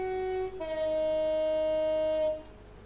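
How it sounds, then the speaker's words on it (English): Train horn in a Dovetail train simulator game: a loud, sustained tonal blast that steps up to a higher chord midway and then cuts off, with faint cab rumble underneath. "For a train that has similar horn, they just recycle the same horn"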